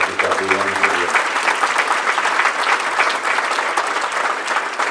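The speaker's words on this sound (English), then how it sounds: "So if we could give them a nice round of applause back there" A hall of fame banquet audience claps in a steady, dense round of applause that holds at full volume for the whole stretch, with a brief voice at the very start.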